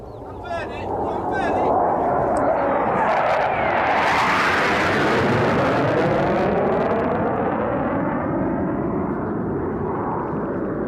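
An F-18 fighter jet makes a low show-of-force pass over a military position in Afghanistan. Its roar swells quickly after a few seconds of voices, peaks loud and close, then slowly fades as a long rumbling wash.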